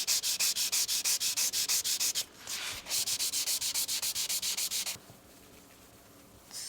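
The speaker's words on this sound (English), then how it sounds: "we will prepare this area with grit 400" Rhythmic back-and-forth hand sanding with 400-grit sandpaper on a race foil surface, loud and close, with regular strokes, a short pause and then fainter rubbing at the end.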